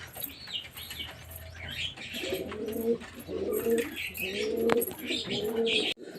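Pigeon chicks being bathed in cold water give a run of soft, repeated coos in steady pulses, with faint chirps and light fluttering over a quiet indoor background.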